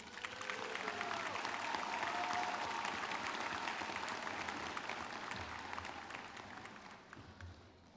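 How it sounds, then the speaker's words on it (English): A commencement audience applauds the employers in a large hall, a sustained wash of many hands that swells and then slowly thins out, somewhat distant, with faint voices in the background. "kindly recognize them with a round of applause"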